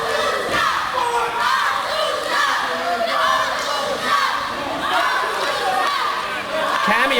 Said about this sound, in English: Cameo getting the fans cheering for the Untouchables and against the Old School Empire.